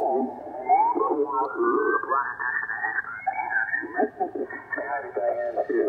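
Warbling, garbled radio interference from CW signals about 2 kHz away, with shifting tones and chirpy distortion, continuous and moderately loud, like signals bleeding in from a nearby frequency.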